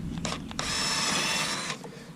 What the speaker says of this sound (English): let's drill another one just to be safe